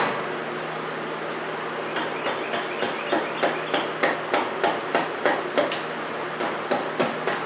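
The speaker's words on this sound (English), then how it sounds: "I'm just going to keep chiseling away at this" Hammer blows drive a chisel into chunky bark on a live edge slab, sharp close knocks coming in a steady, fairly quick rhythm and growing louder, with no talk.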